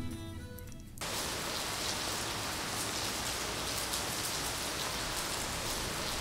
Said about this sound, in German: setzt hier nun, kaum dass wir den Parkplatz erreicht haben, ein heftiger Dauerregen ein